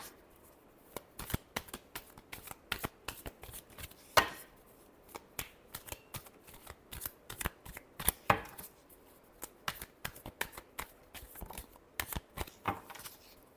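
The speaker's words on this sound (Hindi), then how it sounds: "Last shuffle." Tarot cards are shuffled by hand in a long run of quick, crisp slaps and riffles, close and irregular in rhythm, with no talking.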